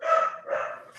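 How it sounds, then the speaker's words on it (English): A single dog gives two quick, fairly close barks in a row, each short and slightly yelping, alone with no talk over it. "Dog's going crazy, Tommy"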